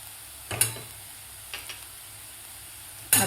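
Onions frying in a pan with turmeric, coriander powder, Kashmiri red chili powder, garam masala and salt are stirred, giving a soft steady sizzle broken by a few brief scraping strokes.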